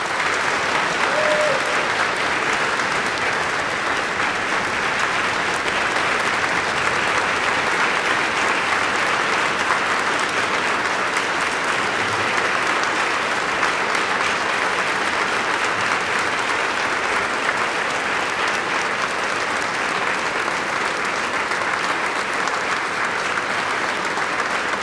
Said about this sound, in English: I invite you to recognize Monsignor Gaston with a heartfelt round of applause